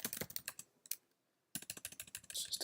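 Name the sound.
computer keyboard keys typing loudly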